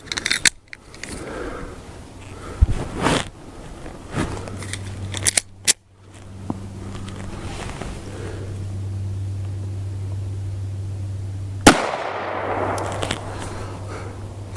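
A .380 pistol fires into a ballistic block outdoors, sharp cracks standing out amid scattered clicks and handling noise, with a steady low hum running underneath much of the time.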